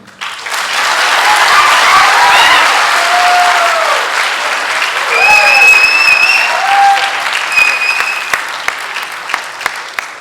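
Loud audience applause at a comedy drama festival, a dense wash of clapping that swells and holds, with a few whistles and cheers rising above it before thinning to scattered claps.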